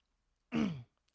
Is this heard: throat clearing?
yes